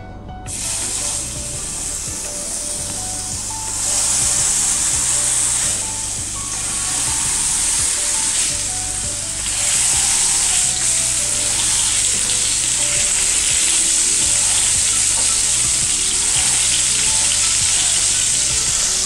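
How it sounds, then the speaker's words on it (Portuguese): A homemade hamburger patty fries in a hot pan, giving a loud, steady sizzle that runs throughout with no talking. "agora a gente vai pegar aquela nossa bolinha que a gente fez, tá? E aí a gente vai fritar."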